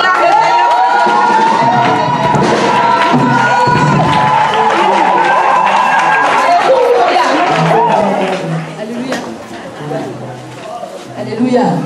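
A church congregation at a prayer gathering for mothers cheers and acclaims the Lord, a loud sustained crowd roar of shouting and ululating voices that thins into scattered chatter toward the end.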